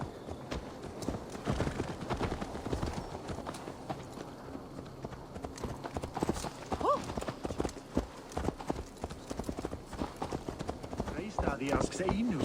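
Horse hooves clip-clop in the video game Assassin's Creed Valhalla, a steady rhythmic series of close hoofbeats mixed with game speech and a brief whinny-like tone.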